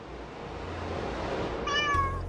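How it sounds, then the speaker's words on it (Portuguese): A single cat's meow rises near the end, a short clear tonal cry over a faint hissy background with no talking. "É a droga de um gato"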